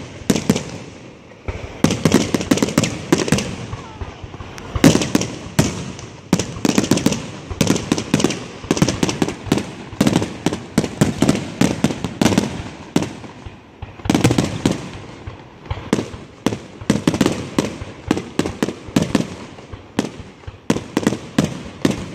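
Town fest fireworks finale: a dense, continuous barrage of crackling bursts and sharp bangs, rapid and overlapping for over twenty seconds, loud and relentless with only brief lulls.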